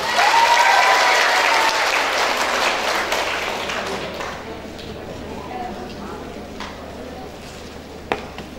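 Audience of university students at a motivational talk with a magic act, clapping loudly at first, then thinning and fading into scattered claps under a speaking voice, with one sharp knock near the end.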